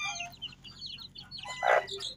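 A black hen clucks among her chicks, more than 20 days old, with soft intermittent peeps and clucks and one louder burst near the end, close by.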